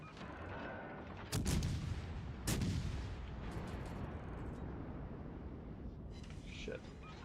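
In World of Warships Legends, warship guns fire two heavy, booming salvos that roll out over continuous battle rumble, followed by fainter distant reports, with a player talking at times.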